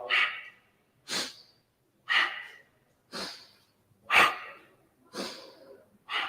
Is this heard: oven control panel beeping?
no